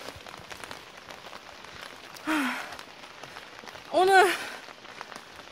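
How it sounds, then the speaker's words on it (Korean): Steady rain patters on surfaces outdoors at a hillside park with fields in Masan, a soft continuous hiss throughout while someone speaks briefly in two short bursts. "지금 비가 오는 상태라"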